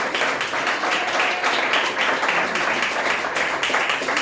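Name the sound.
congregation applauding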